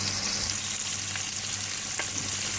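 Pork roast browning in a pan, a steady close sizzle and crackle of frying throughout, with no talk and only faint brief pops.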